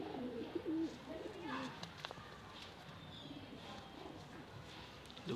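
Pigeons coo softly in low, repeated murmurs, with a few brighter calls early on, against a noisy, cluttered background. Blue pigeons of a fancy breed are being shown off.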